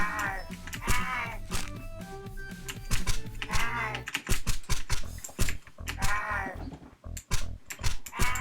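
Hard, fast clacking on a computer keyboard during gaming, dense bursts of keystrokes mixed with loud game audio including animal-like moaning calls.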